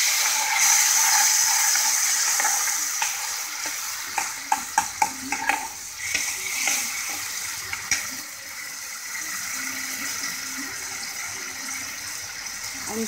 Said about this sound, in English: This is 1 garlic paste which I am frying now.